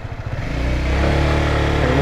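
Vehicle engine braking during a downshift through the gears, a steady mid-pitched engine drone that swells and grows louder and rougher as revs climb, close and continuous with no talking.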